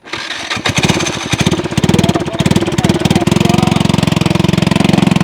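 A homemade motorbike built from scrap parts runs its small engine close by, a loud, steady, rapid putter that picks up after a brief start and holds an even rhythm throughout.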